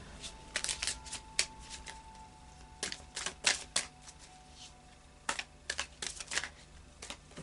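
Oracle cards are shuffled quietly at close range in quick, irregular riffles and flicks, with soft crisp snaps spread across several seconds.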